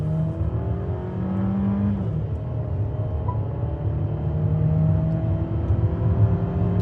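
A Mercedes GLA 200 engine accelerates steadily, its hum climbing smoothly in pitch through the gears against a constant rumble of road and wind noise from inside the car.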